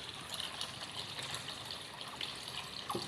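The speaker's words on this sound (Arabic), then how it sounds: "هسه هنا راح أحط مي" Tap water runs steadily into a mop bucket in a home kitchen, a continuous close gush and trickle with a few small splashes.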